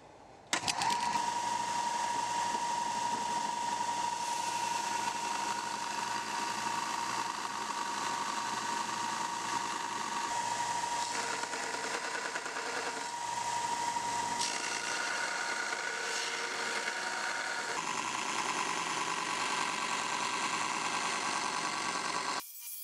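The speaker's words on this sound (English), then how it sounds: "Now I use my Wen 4x36 belt sander to dial in the profile." A Wen 4x36 belt sander grinds a small fixed-blade knife profile, a steady loud motor whine with continuous abrasive hiss that shifts slightly in pitch as the steel is pressed against the belt, close up without speech.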